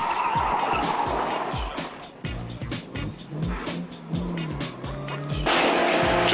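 A rally car on a greasy Targa Tasmania stage road during the 2007 event, its engine revving hard and shifting through gears from inside the cabin, with bursts of acceleration, brief lifts and tire noise.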